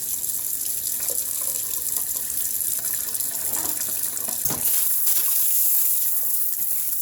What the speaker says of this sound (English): Turn the water supply back on, check for leaks